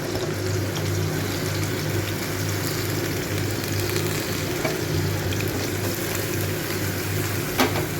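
Pumpkin stalks sizzle in a frying pan, a steady, close crackle of hot oil with light stirring scrapes throughout.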